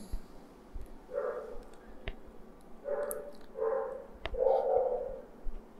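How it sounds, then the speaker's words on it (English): Several dogs bark in the distance during a quiet indoor moment, a few short faint bursts spaced unevenly over a low background hum. "Background noise, some dogs."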